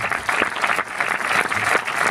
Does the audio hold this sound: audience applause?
yes